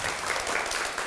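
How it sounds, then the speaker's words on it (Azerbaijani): An audience at a talent festival applauds, a brief, dense burst of steady clapping that fills the hall at moderate loudness. "Alisanı alqışlayaq ürəkdən"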